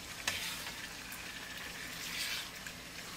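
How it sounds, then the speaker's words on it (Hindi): Chicken frying in a pan for Mughlai biryani gives a steady, close hiss and sizzle, with a couple of brief stirring clinks and no talk. "अब चिकन को हमने भून लेना है 6 से 7 मिनट तक"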